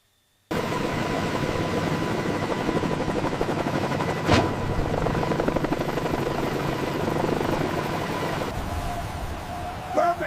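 A Ka-52 coaxial-rotor attack helicopter flies in to land, its steady, loud rotor thump and engine whine filling the whole stretch with a brief sharper burst midway, near and continuous.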